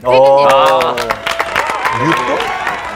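A studio group on a TV car-history show claps for the writer, brief scattered applause breaking in over a voice with laughter and chatter around it.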